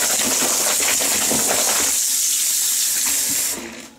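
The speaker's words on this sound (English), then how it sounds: "I'm just gonna rinse my plant down with soap and water." Tap water runs into a kitchen sink while a small plant is rinsed with soap, a loud steady gushing splash that thins and cuts off near the end.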